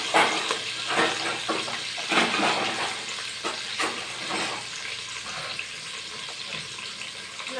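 Onions sautéing in a pan for Kerala-style beef curry, a steady hissing sizzle with irregular bursts of stirring and scraping, close and continuous, no talking.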